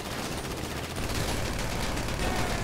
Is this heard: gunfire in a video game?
yes